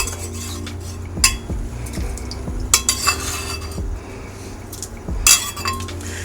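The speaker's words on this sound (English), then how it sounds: "I'm gonna add my sausage back into the party" Sausage slides back into a pot of red beans, with metal utensil clinks and scrapes against the cookware in scattered bursts and a faint sizzle underneath, close and moderately loud with no talking.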